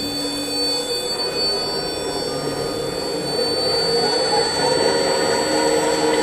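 Universal egg spinning machine running in reverse, giving a steady mechanical whir with a high whine and a faint rumble, continuous and fairly close, slightly louder toward the end with no talking.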